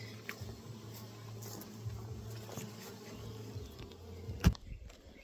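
Bees from a greenhouse hive buzz in a steady low hum that persists throughout, with a sharp knock or tap near the end; no one speaks.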